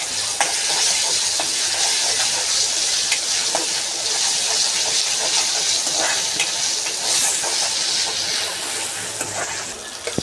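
Ginger garlic paste frying in a pan for chicken sukka, a loud continuous sizzle and hiss with frequent scraping stirs, steady for the whole stretch with no talking.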